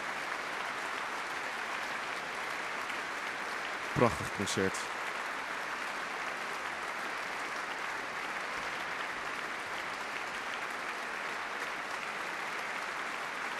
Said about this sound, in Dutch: het koor neemt al buigend het applaus in ontvangst dat nog even aanzwelt